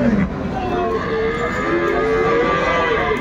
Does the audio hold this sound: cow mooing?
yes